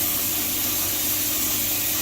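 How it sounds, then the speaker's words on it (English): A paint spray gun lays a fine lacquer coat on a model locomotive, producing a continuous, close, even airy hiss with no break or speech. "Give it and let the air go, and then just you can maybe see the spray now."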